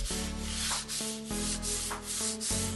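Fine sandpaper is drawn lightly over stained plywood furniture, giving soft, close, rhythmic scratchy strokes in an even back-and-forth pattern with brief pauses between passes and no voices.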